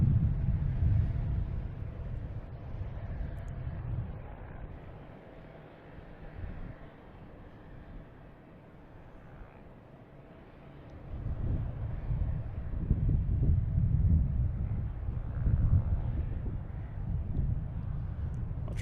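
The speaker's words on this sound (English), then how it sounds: "It is very windy here today." Gusty wind buffets an outdoor microphone at a busy airport, a steady low rumble that dips mid-clip and then swells again in stronger gusts, with no voices.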